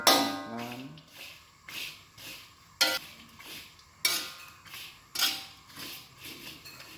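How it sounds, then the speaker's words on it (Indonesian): Ginger dry-roasting in a pan over a low flame is stirred slowly, giving a series of scraping, clinking strokes against the metal, spaced a second or so apart, close and fairly soft. "Ini kemudian ini kita aduk ya, aduk pelan-pelan."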